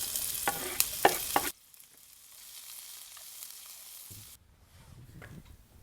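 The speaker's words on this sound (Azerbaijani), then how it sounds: "Tavada 1-2 dəqiqə soğanı qovuracağım." Onion sizzles in a frying pan while liver pâté is being prepared. A loud, crackling sizzle with stirring clatter comes first, then the sound drops to a quieter, steady hiss with faint scrapes.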